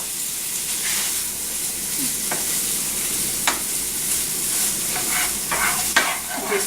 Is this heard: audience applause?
no